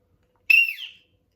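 A single sharp referee whistle blast, loud and close, lasting about half a second in otherwise quiet surroundings.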